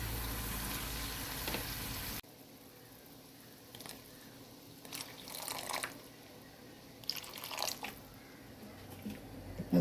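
A homemade mango pickle mixture with chili powder and vinegar boils in a pan, producing a faint, steady bubbling simmer broken by occasional soft pops and sputters.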